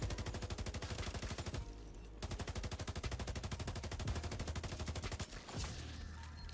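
Sustained automatic gunfire from an enemy NPC in The Division 2, a fast rapid-fire stream of shots lasting several seconds with a brief pause, loud and steady, no talking.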